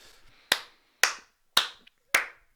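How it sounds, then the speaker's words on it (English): Four sharp hand claps ring out alone at a steady, deliberate pace, each close and crisp with a short decaying tail. "I feel like to clap for the developer because I did really truly love the game."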